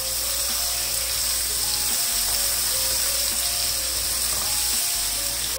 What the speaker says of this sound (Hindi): प्याज के साथ आलू की कतलियों को फ्राई करते हुए मुझे तकरीबन 2 मिनट हो गए